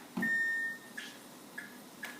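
A kitchen timer being set gives one long electronic beep followed by three short, evenly spaced chirps, close and fairly quiet over a faint background hum.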